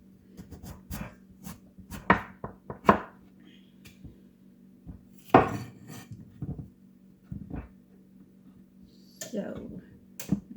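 A knife slices through washed, skin-on potatoes on a cutting board in a home kitchen, a series of sharp, close chops in irregular rhythm, with a person talking between cuts.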